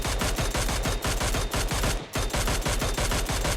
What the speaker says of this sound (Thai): แต่ปืน DMR จุดที่จะทำให้เราได้เปรียบมากที่สุดคือ นัดแรกเรายิงให้โดนหัวครับที่เหลือยิงไปเลย